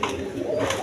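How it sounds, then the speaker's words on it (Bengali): Big, high-quality pigeons cooing at a pigeon seller's, a soft continuous throaty murmur of coos close by with no talk over it. "একদম কোয়ালিটিফুল কবুতর, দেখেন দেখার মতো কবুতর, একদম বিগ সাইজের"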